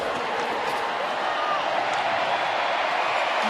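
Sold-out crowd noise inside Place Bell during a PWHL hockey game between the Ottawa Charge and Montréal Victoire, a steady, dense roar of cheering voices filling the arena for the whole stretch without letting up.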